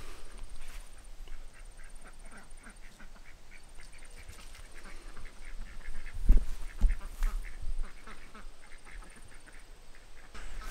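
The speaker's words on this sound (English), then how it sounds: "I'm actually really happy to see the geese and the ducks living in such harmony" Ducks quack repeatedly at a distance over a quiet outdoor background, with a few louder thumps partway through.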